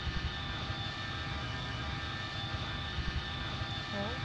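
A Vietnam War aircraft in a Roblox flight game drones with a constant, dense engine roar throughout, with no pauses or speech.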